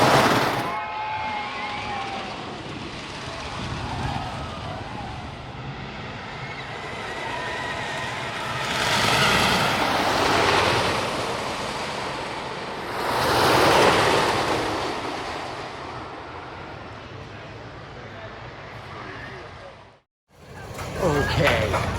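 Heavy wind roar rushing past riders in the back row of the Zeus roller coaster, loud and continuous, with swelling gusts and voices partly buried beneath it before it cuts off abruptly near the end.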